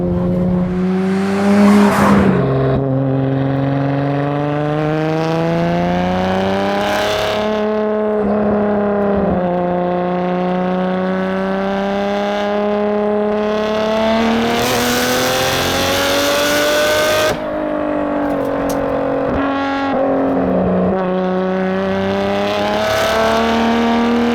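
An R33 Nissan Skyline GT-R V-Spec engine roars loudly, climbing in pitch as it accelerates through several gear changes, each shift dropping the revs before they rise again.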